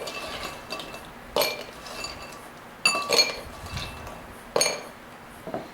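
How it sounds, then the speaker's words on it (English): Ice drops into a rocks glass with a few sharp, separate clinks spread over several seconds, close and clear above a quiet room. "We have to have a good amount of ice."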